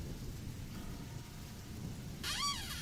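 Heavy rain pours steadily in a story game, a dense hiss with a low rumble of thunder beneath it and a brief warbling sound rising near the end.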